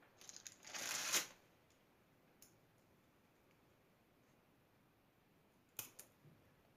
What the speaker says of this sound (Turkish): hepsini göz kararı şu anda kesiyorum